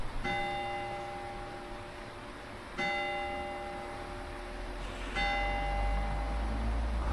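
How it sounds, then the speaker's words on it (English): Church bells ring out near the WW2 museum at Freiston, giving three clear, resonant strikes spaced a few seconds apart, each leaving a long humming decay over a quiet outdoor background. "Oh, the bells, Sandra, the bells."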